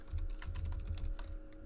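Quick, close keystrokes on a computer keyboard as a student's name is typed, an uneven run of light clicks over a low steady hum, with no talking.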